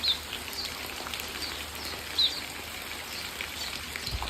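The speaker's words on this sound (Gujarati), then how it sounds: "વરસાદ ચાલુ થઈ ગયો." Morning rain falling steadily outdoors at about seven o'clock, a soft continuous hiss of drops on surfaces with faint trickling, no talking.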